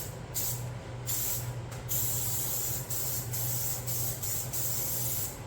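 Clear coat is sprayed from a can onto a Little Tikes toy car, producing close, steady hissing blasts broken by brief pauses, over a low background hum.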